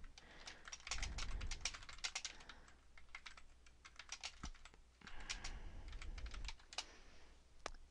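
Rapid keystrokes on a computer keyboard while blog post text is being erased and rewritten, close and clear, coming in uneven bursts with short pauses and no talking.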